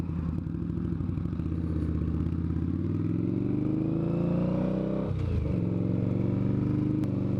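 An Indian motorcycle engine runs continuously while being ridden, a deep, hammering, throbbing exhaust note that rises and shifts as the bike accelerates, close and steady throughout with no talking.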